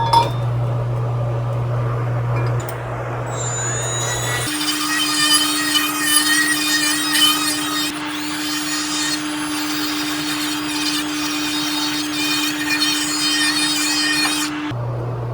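A Poliroll abrasive sanding tool grinds through metal with a steady high whine and scraping, holding for about ten seconds before cutting off abruptly, with no one talking.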